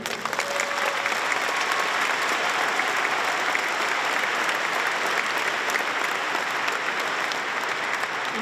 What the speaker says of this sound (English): Please join us in applauding their achievement